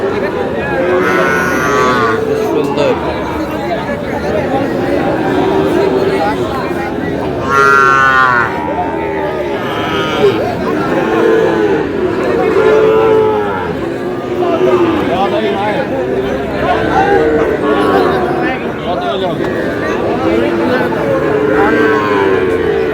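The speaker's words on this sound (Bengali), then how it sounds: "ষাঁড় বাচ্চা" Young bull calves moo repeatedly at a busy Tangail cattle market, loud calls rising over constant crowd chatter and voices throughout.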